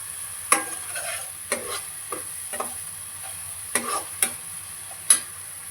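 Four slit green chillies fry in a pan for joint biryani, with a faint sizzle beneath sparse, sharp stirring clicks and scrapes spread through the stretch.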